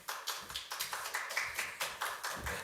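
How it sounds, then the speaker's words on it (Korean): Audience at a church lecture session claps to welcome a pastor to the stage: steady, closely spaced claps in a fairly even rhythm, moderately loud and close, with no voices over them. "박수로 모셔주십시오."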